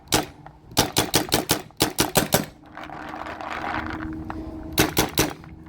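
Paintball markers fire rubber balls in rapid bursts, sharp close pops in quick runs of about eight and seven shots, with a pause between filled by a soft hiss of air, then a final short burst of three.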